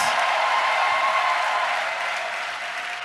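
Dense applause and cheering from a church gathering greeting a visiting missionary pastor in Côte d'Ivoire, a steady broadband roar that holds loud and then eases slightly toward the end, with a faint whistle-like tone running through.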